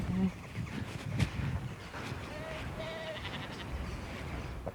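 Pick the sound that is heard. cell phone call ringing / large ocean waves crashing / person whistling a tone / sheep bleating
sheep bleating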